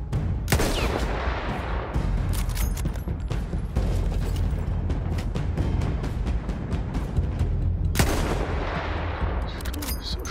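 Gunfire in the World War I shooter Battlefield 1, with repeated sharp shots and bursts of rapid fire crackling through a constant battlefield rumble, some reports loud and close, others more distant.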